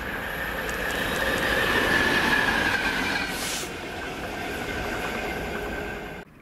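A freight train hauled by class 66 locomotive DB66192 rumbles past in Scotland, a loud, sustained roar of rolling wagons with wheel squeal and rhythmic clatter, fading before cutting off abruptly.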